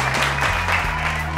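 A seated group of office workers claps together during an office game, a brief steady burst of applause close by, with a faint voice underneath.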